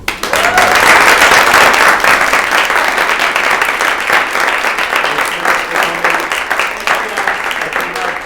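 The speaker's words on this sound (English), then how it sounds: "let's have another round of applause for Meadow Anderson." A large audience at a talk on climate change applauds loudly and continuously, a dense wash of clapping that barely fades over several seconds.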